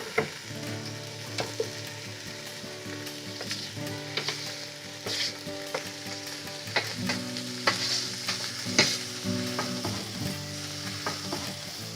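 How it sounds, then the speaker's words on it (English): Barley stirred into a hot pan of vegetables and white wine for a kale and butternut squash risotto sizzles steadily, with spoon scrapes and clinks coming through at close range and no talk. "And now we can throw in the barley."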